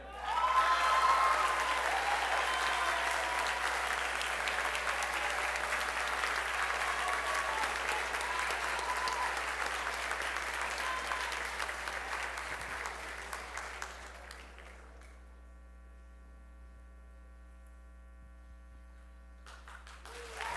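Applause for a student award winner at a school spring band concert: a large audience claps steadily for about fourteen seconds before fading away, leaving a low electrical hum and near silence.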